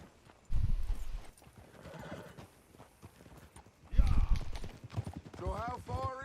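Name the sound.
horses riding, hooves clip-clopping, in video game Red Dead Redemption 2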